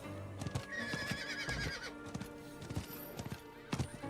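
Horse mount in the Diablo 4 video game neighing with a rising whinny, followed by steady clip-clop hoofbeats of trotting, close and fairly loud throughout with game effects underneath.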